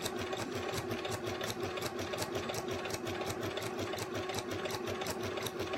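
A sewing machine stitches a tote bag in a continuous, rapid mechanical chatter, running steadily and close throughout without pause or voices.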